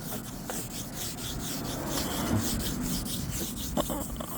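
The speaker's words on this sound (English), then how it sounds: "I'm not doing a brilliant job of sanding" Hand wet sanding on a car panel during a first test of wet sanding and polishing, a steady close rubbing rasp that runs unbroken, with a few slightly louder strokes toward the end.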